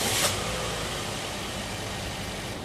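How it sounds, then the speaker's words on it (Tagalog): A Toyota Vios car engine idles steadily after a fresh spark plug change, giving a continuous even hum throughout with a brief louder burst at the very start and no voices. "pwede mo nang i-start itong makina."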